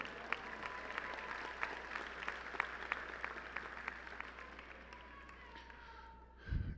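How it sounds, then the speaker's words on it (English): Applause from a college of business commencement audience, a steady wash of many hands clapping with a few sharper claps standing out, fading toward the end as a low rumble rises. "please give them a round of applause for that"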